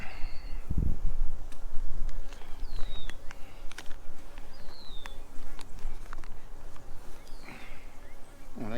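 Honeybees humming around an opened overwintered hive, a soft continuous buzz with individual bees zipping past close by, plus handling knocks and faint rustling; some low human sounds in the background.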